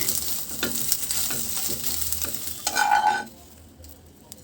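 Eggs frying thickly in a pan for hotel-style noodles: a steady close sizzle with stirring and scraping strokes, a brief louder burst of spatter near the end, then it quiets.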